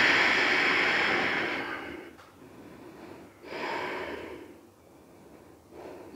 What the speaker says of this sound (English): Deep breathe in, deep breathe out for a few counts